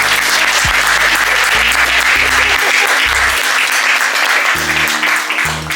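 An audience applauds at a conference on mental health and faith. The dense, loud clapping runs throughout over background music.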